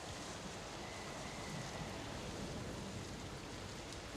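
Soft, even rain ambience in a tabletop role-play session, a faint continuous wash of falling water with no distinct drops standing out and no talk over it.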